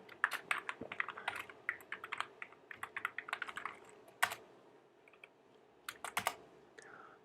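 Fast bursts of typing clatter on a computer keyboard, quiet and close, with irregular pauses and a few isolated keystrokes.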